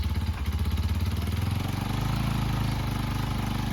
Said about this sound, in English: So here as it's running, it runs fine at idle, but when I give it more throttle, it begins to die.